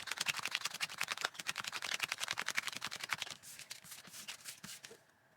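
A deck of Downforce racing game cards is riffle-shuffled in a rapid, crisp flutter of snapping card edges. It slows into a few looser shuffles and then falls quiet, close up, with no talking.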